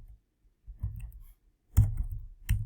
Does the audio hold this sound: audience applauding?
no